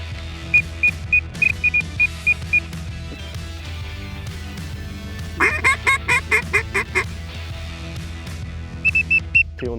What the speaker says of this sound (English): The ducks are trying to go behind us over here, Cody